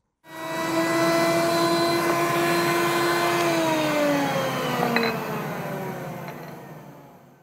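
A router table spins up and cuts a radius corner into scrap wood stock: a loud, steady motor whine and cutting roar that holds for several seconds, then slowly drops in pitch and fades as the bit winds down.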